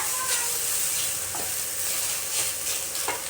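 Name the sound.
carrots being stirred and roasted in ghee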